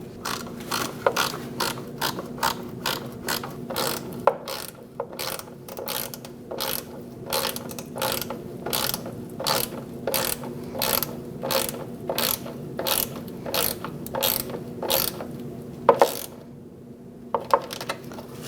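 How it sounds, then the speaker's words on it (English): A ratchet wrench tightens the fog light mounting bolts on a 2004-2012 Chevrolet Colorado, giving steady rapid clicking bursts in a regular rhythm, close and fairly loud, with a brief pause partway through and no talking. "Now that I got them both started, I'm going to tighten them down."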